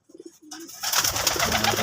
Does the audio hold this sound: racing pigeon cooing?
yes